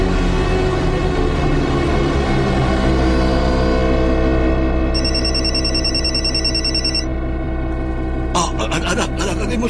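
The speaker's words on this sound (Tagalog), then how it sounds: "Anak, ang imo cellphone." A cellphone rings loudly and continuously in a horror audio drama, its electronic ringtone tones sustained over a low droning bed with a brighter chiming burst near the end.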